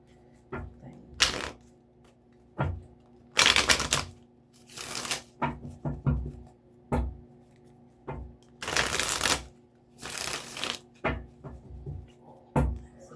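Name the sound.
shuffling tarot cards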